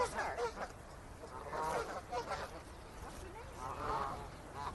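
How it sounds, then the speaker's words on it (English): Agitated geese honk repeatedly in excited, overlapping bursts, close and fairly loud, with a rough, noisy outdoor background. "So these geese are flipping out, and the males are getting all spun up."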